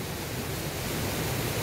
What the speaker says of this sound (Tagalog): malakas ang tubig ngayon mga kuha, punong-puno ng tubig doon sa ilalim